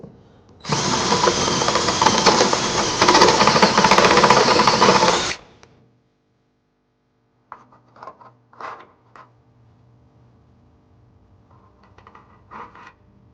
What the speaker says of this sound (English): we're going to go ahead and take a step bit and widen that up